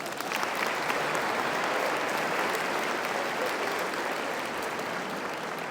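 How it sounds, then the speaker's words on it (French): An audience applauds children at a Christmas celebration, a dense, steady wash of many clapping hands that stays loud and even throughout, with no talking over it. "On peut applaudir les enfants."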